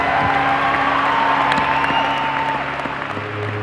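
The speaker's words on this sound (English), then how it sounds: "So give yourself a round of applause." Audience applause at a George Mason University basketball gathering, a dense steady wash of clapping with faint cheers, fading slightly near the end.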